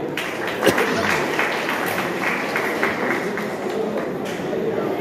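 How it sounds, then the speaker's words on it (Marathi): Crowd applause at a chess tournament prize event, a dense, even wash of clapping that carries steadily throughout, fairly loud and close, with no speech over it. "या स्पर्धेत सहभागी झालेल्या सर्व खेळाडूंसाठी एकदा जोरदार टाळ्या झाल्या पाहिजे"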